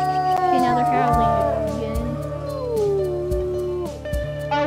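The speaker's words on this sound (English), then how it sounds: "now they're howling" Wolves howl in a WolfQuest game, several long rising and falling howls overlapping in a chorus, loud and close, with a person talking over them.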